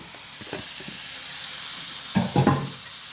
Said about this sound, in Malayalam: നന്നായിട്ട് നന്നായിട്ട് വഴക്കി കൊടുക്കണം